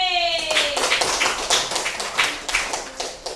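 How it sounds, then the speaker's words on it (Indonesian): A small group claps in a brief rhythmic burst, roughly even beats close by, following a short rising tone at the start. "Tepuk tangan untuk kelompok B."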